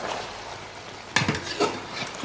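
Chicken curry being stirred in a pot after salt and chili powder go in, heard as a faint background hush broken by a sudden scraping clatter of a spoon against the pot and a few softer scrapes after it.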